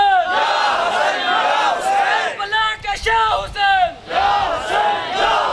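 A large crowd at a religious sermon gathering chants the slogan "Ya Hasan Ya Husain" in loud unison. The voices come in repeated forceful bursts with brief dips between phrases.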